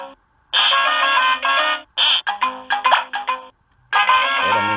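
A Toy Island Wacky Sax toy saxophone plays its electronic song with sound effects layered on top, loud bright beeping tones in bursts separated by brief pauses.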